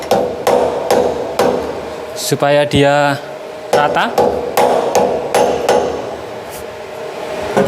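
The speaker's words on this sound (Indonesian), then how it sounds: "Saya pukul dengan palu karet" Rubber mallet taps a metal workpiece flat in the vise of an ATMI PRO VMC 60 E CNC milling machine, a series of sharp, close knocks at irregular intervals, with someone talking briefly in the middle.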